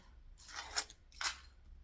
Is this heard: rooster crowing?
no